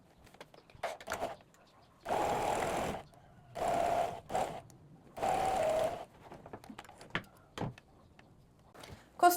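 A sewing machine stitching the shoulder and facing seams of a blouse runs in three short bursts of steady whirring, each about a second long, with quiet pauses and small handling clicks and knocks between them.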